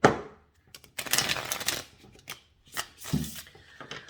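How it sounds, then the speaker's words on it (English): Tarot cards being shuffled by hand in several quick riffling bursts with brief pauses between, close up and moderately quiet. "I'm going to shuffle it one more time"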